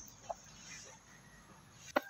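Shamo rooster giving short clucking calls to a hen, one soft call early and a sharper louder one at the end, over a faint quiet farmyard background.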